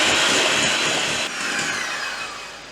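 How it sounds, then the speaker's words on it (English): An electric mixer whizzes margarine and caster sugar together for cupcake batter, a steady loud whirring that holds nearly constant and eases slightly partway through, with no voices. "So I've just been whizzing for probably no less than a couple of minutes"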